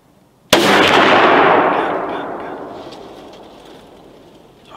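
A single sharp rifle gunshot cracks out loud and close during a deer hunt on Christmas Day, then its long rumbling echo rolls away and slowly fades for several seconds.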